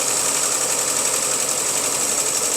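An engine that has just made a cold start runs at a steady, even idle, with a continuous close hum and a bright mechanical whine, and no talking over it.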